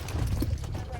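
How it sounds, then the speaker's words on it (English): Horses running in a corral during a large horse drive, their hooves clip-clopping in a steady, close rumble with voices mixed in. "Fun to watch the horses run,"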